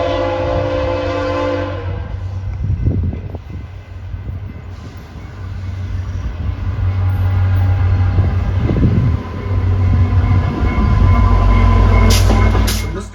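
Via Rail F40 locomotive model train running, a continuous low rumble and hum that swells and fades with passing motion, plus a brief high squeal near the end, alone without voices.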